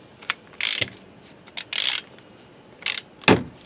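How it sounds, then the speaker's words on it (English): A ratchet turns an oil filter wrench during a Honda Odyssey oil change, producing four or five loud, close bursts of rapid clicking separated by short pauses, with nothing else heard. "put my ratchet on."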